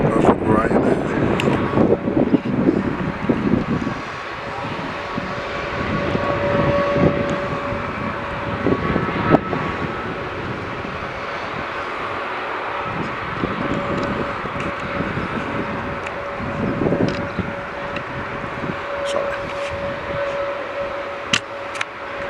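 Jet airliners landing and taking off at Manchester Airport: a continuous broad engine roar with a steady whine rolls on for the whole stretch at moderate distance, with occasional faint voices.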